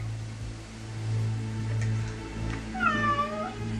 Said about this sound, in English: If a cat could howl at the moon, this is what it would sound like.